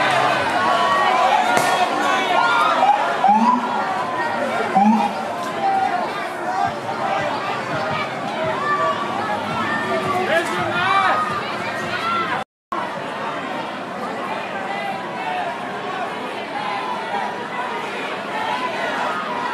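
Protest crowd in a New York street, many voices chattering and shouting together in a dense, continuous hubbub with a brief dropout midway.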